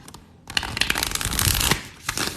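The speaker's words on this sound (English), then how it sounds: "I'm doing a good shuffle-roo." Tarot cards are shuffled close up, a brisk papery riffling in quick bursts after a quiet start, with no voices heard.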